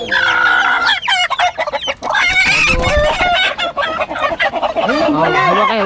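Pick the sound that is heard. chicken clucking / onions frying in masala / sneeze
chicken clucking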